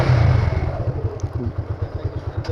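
A motorcycle ridden on a road before dawn, on a long trip from Dhaka to Noakhali in Bangladesh, its engine a steady low drone that is loud at first, then settles into a pulsing, throbbing rhythm, heard alone.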